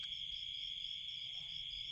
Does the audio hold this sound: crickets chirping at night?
yes